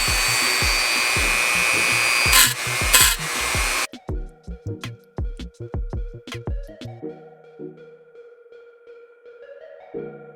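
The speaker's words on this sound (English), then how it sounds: "done using the sanding stone on my Dremel" A Dremel rotary tool with a sanding stone grinds curb rash off a 1991 Dodge Stealth R/T Twin Turbo wheel, a steady, close, high-pitched buzzing whine for about four seconds. It then stops, leaving scattered light taps and tones.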